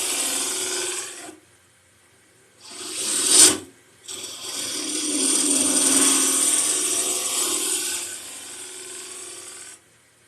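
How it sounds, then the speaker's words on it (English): A gouge cuts a lidded wooden box on a wood lathe in long scraping, rasping strokes, broken by a sharp thump as the tool catches and kicks back, then smooth continuous cutting resumes. "Now that kicked back because of the wing of my gouge hit."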